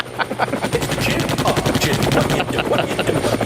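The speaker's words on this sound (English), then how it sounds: "It is a Apache helicopter." An Apache helicopter sound effect: a loud, dense stream of rapid rhythmic pulses, rotor thumping merged with bursts of automatic gunfire, steady for several seconds with no speech.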